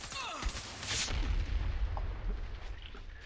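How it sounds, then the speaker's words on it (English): An RPG rocket explodes in the shooter video game Warface with a single loud blast followed by a low, rolling rumble that lingers and fades. "He is gonna RPG me."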